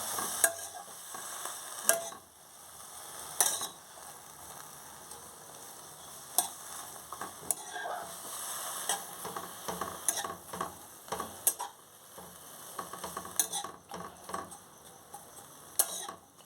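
Pumpkin greens fry on very low heat while being stirred in a pan, a soft sizzle under repeated scraping and clinking strokes of the spoon, close up with no voices.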